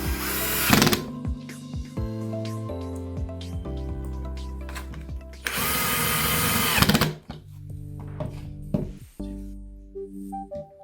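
A power screwdriver drives screws into the wooden panels of an Atira 70 mm drawer, its motor whining in several bursts that rise and cut off, with short clicks and handling noise between them, close and loud.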